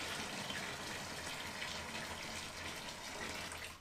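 Water gushes steadily into a homebrew brewing bin while elderflower champagne is being made, a continuous close filling rush that holds level for a few seconds before tapering slightly at the end.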